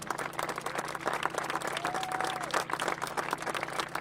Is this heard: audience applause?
yes